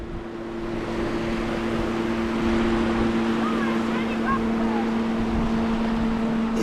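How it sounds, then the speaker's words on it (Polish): A small boat's engine hums steadily on a river, a low continuous drone with wind and lapping waves, moderately close. "No najpierw żeglówka, teraz taki mały stateczek wypływa."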